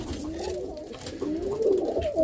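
Roller pigeons coo steadily in a loft, a low warbling murmur that rises and falls in soft overlapping phrases, fairly close and continuous with no talk over it.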